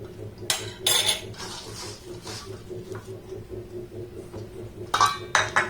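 A spoon stirs whole wheat flour dough in a bowl for crisp biscuits: intermittent clinks and scrapes come in short bursts over a low steady hum.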